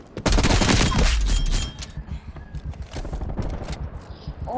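Sustained loud gunfire in a shooter game, a dense burst of rapid shots for over a second, then scattered quieter shots and impacts, with no talking over it.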